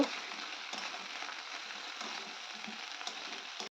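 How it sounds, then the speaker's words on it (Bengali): Winter vegetables fry in oil with panch phoron, bay leaf and dried chilli, giving a steady soft sizzle with faint scraping from stirring, continuous and fairly quiet throughout. "তো দিয়ে খুব ভালো করে নেড়ে নিচ্ছি যাতে সবজিগুলো ভাজা ভাজা হয়ে যায়"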